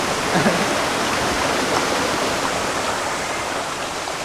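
Pak Rang waterfall flows strongly, a loud, close, continuous roar of rushing water with no breaks.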